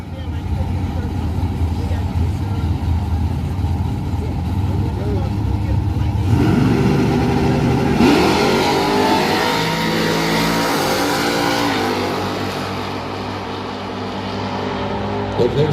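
Brian Tooley Racing LS-powered drag cars at Galot Motorsports Park, engines idling with a deep rumble and then revving up loudly nearby, the roar rising and holding before easing back, with a voice talking over it.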